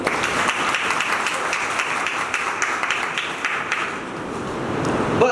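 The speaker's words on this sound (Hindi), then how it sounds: "इनके लिए तालियां बजाएंगे" A crowd at a meditation camp in Hisar claps for a little girl, dense and continuous applause filling the room from start to finish, with no voices standing out.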